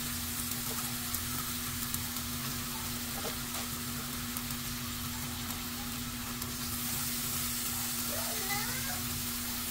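Eggplant fries in a pan while it is stirred. A soft, continuous sizzle runs under a steady electrical hum, with faint scraping of the stirring.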